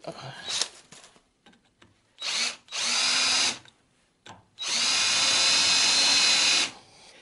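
A power drill bores out spot welds on the sheet metal of a Citroën 11, three close, loud whining bursts, short, then longer, separated by pauses with small handling noises.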